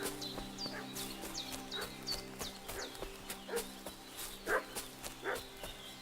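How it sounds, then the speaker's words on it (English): Dog barking in the video game Kingdom Come Deliverance 2, a string of evenly spaced, fairly distant barks over a low ambient hum, with a few louder yelps later on. "What's that dog making such a fuss about?"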